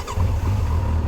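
Kawasaki Versys 1000 S adventure motorcycle with an inline-four engine, a steady low droning hum with a smooth, continuous rumble, fairly close and without talk over it.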